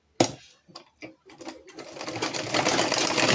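A sewing machine back stitching fabric, a few short stop-start bursts that then build into a continuous close mechanical whir, with faint talk underneath.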